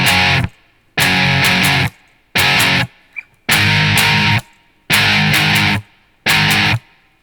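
Distorted electric guitar playing a song part slowly, loud chugging chord bursts in a stop-start rhythm separated by clean gaps of silence, close and unaccompanied.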